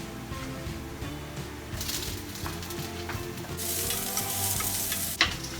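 Capsicum for a vegetable pizza frying in a pan, a low steady sizzle that swells into brighter hissing bursts, with a sharp clink near the end, close and quiet.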